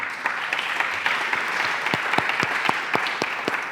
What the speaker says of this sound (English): And a round of applause for Derek, who's helped facilitate this whole visit